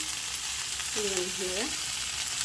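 Capsicum bajji fritters sizzle steadily in hot oil, a constant close hiss throughout, with a brief tonal squeal rising over it midway.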